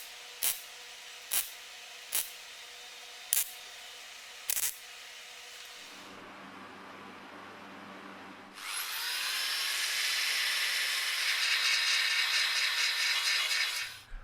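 Angle grinder flattening welds on the rusted windscreen corner of a Mercedes W123 body, first several short sharp bursts, then a quieter pause, then a long loud continuous grind close by with no talk.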